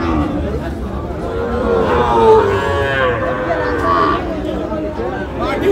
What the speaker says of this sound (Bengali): ষাঁড় বাচ্চা আমরা দেখছিলাম